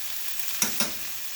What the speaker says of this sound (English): Love the cooking garlic.